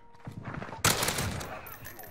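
Grau 5.56 assault rifle fire in Modern Warfare, a dense rapid burst that erupts loudly and holds as a sustained rattle after a quieter lead-in.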